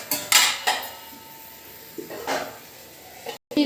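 Chicken being stirred in a cooking pan over a medium flame, with sharp metallic scrapes and clinks of a utensil against the pan, loud and close in short bursts amid quieter sizzling and handling noise.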